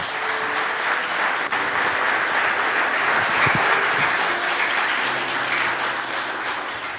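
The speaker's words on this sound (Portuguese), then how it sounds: "Quem crê, bate palmas para Jesus e dá glória a Deus" Sustained applause from a church congregation, steady and dense clapping filling the whole stretch without pause.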